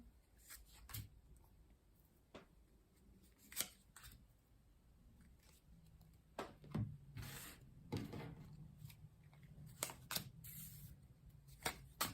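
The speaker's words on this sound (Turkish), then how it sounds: "kartlarınızı açıyorum sizlerin niyetine" Tarot cards handled and laid out: soft, scattered slaps, rubs and shuffling clicks of cards on a surface, close and quiet, in irregular bursts with no talking.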